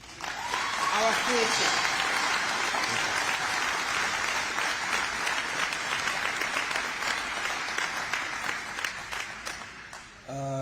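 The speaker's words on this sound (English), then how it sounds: "Give another round of applause to our youth" An audience at a community center ribbon cutting ceremony applauds steadily for about ten seconds, a dense wash of many hands that is loud and sustained. A speaker's voice is heard briefly at the start and again at the end as the clapping fades.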